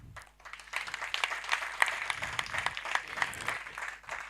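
A crowd of mourners at a funeral in Taita Taveta County claps for a bereaved family, a few seconds of fairly faint, dense applause that swells and then carries on steadily.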